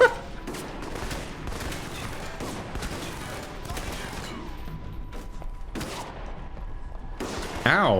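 Shotgun and other gunfire in the video game Alpha Protocol, with repeated loud blasts and bursts spaced through an ambush firefight, layered over ongoing game noise and a few voices.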